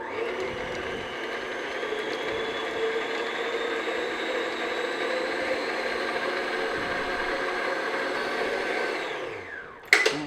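Mixer beating butter until creamy, a steady moderate whirring hum that runs evenly for about ten seconds before cutting off with a short clatter, no talking.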